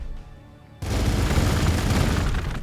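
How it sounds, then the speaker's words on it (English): Units opening fire in the strategy game Warhammer 40,000: Gladius – Relics of War, a sudden dense burst of battle noise after a short quiet moment, then sustained rumbling shots to the end. "See, now they're shooting."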